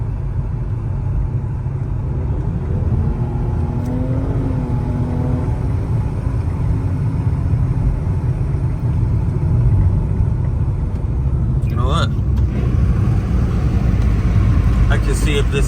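A car engine drones under steady road rumble during a hard drive, with a rising rev swell early on and a sharp higher-pitched whine later; someone talks over it.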